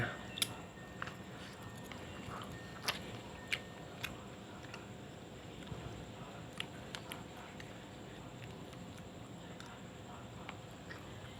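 Soft close-up chewing and biting on Japanese rice topped with Korean-style sauced pork and melted cheese, quiet moist squishes with occasional sharper crunchy ticks over a faint background hiss.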